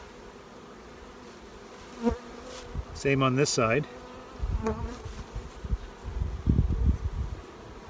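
Honey bees buzz steadily throughout around open hive frames of brood, with sharp close buzzes passing by and a brief spoken phrase and some handling noises in between.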